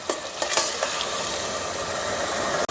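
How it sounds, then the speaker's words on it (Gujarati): Onions and garlic paste sauté in a pan for pav bhaji, giving a loud continuous sizzle with a few quick spatula scrapes near the start. "કાંદા લસણને આપણે 2 મિનિટ આ રીતે સાતળી લઈશું"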